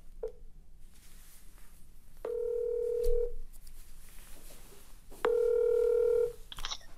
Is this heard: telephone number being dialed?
yes